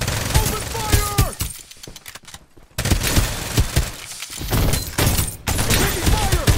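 Bursts of rapid automatic gunfire in the battle game Farlight 84, loud and close, with brief pauses between volleys and a voice breaking in over the shooting.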